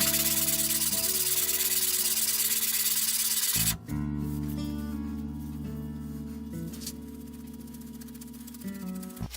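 Cast-iron hand plane sole rubbed back and forth on worn, rolled sandpaper while being flattened: a loud, steady gritty scraping in long continuous strokes, close up, with a brief pause midway and background music underneath.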